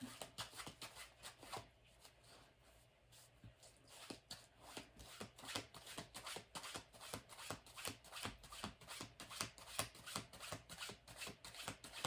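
Tarot cards are shuffled close up in a quiet setting, a long run of crisp, rhythmic riffling bursts repeating at a steady pace with no talk.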